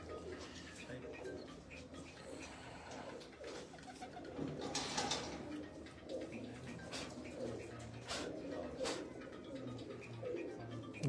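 Pigeons coo softly in a garden in Islamabad, a low steady murmur of calls under faint background voices and outdoor ambience throughout.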